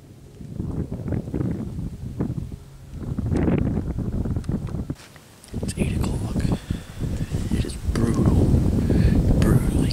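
Gusty, cold wind on a mountain deer hunt buffets the microphone in heavy, rumbling surges that rise and drop, with a voice speaking faintly underneath.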